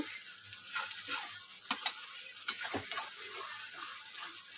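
Spice masala for a spicy country-chicken curry fries and gets stirred in oil, with a quiet, crackling sizzle and several distinct spoon scrapes and knocks against the pot.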